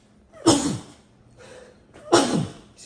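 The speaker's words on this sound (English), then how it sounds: "I'm about to sneeze." A person sneezes twice, close and sharp, with a short sniff between the two bursts.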